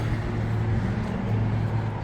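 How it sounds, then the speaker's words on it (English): Steady road traffic roars outside beside an antique Great Northern Railway train display in Chehalis, Washington, a loud, continuous low rumble with no break. "Sorry about the traffic noise again. It's really loud out there."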